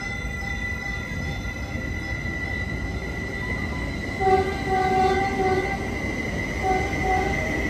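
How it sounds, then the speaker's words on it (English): Caltrain train 612 pulls out of Santa Clara station, a steady rumbling rail drone with tonal squeals or horn-like notes rising midway, moderately close and unbroken throughout. "This train is finally departing."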